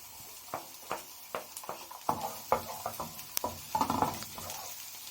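Onions tipped into a hot pan for a Chinese sausage egg omelette, then stirred: a sizzle runs under a string of sharp spatula scrapes and taps, fairly close and moderately loud, with no talking.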